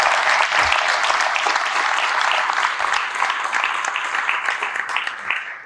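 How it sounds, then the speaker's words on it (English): An audience at a hockey coaching symposium gives a speaker a dense, sustained round of applause, a broad wash of many clapping hands that stays loud and steady before fading out at the end. "I certainly want to give you a round of applause for what you've done"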